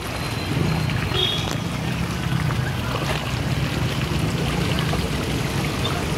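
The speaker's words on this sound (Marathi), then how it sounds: "त्यामुळे इथं जलवाहिनी फुटली आहे" Water gushes loudly and continuously from a burst water main at a busy city intersection in Solapur, a close, churning splashing rush with a low rumbling undertone and no pauses.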